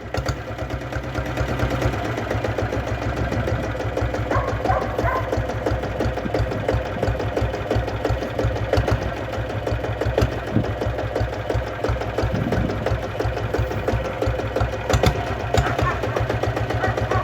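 A diesel Bullet motorcycle engine runs close by with a steady, rapid, even thumping beat that holds at one pace throughout.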